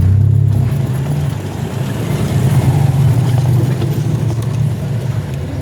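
A vehicle engine runs steadily at idle, a close, loud, continuous low rumble with slight fluctuations and no speech.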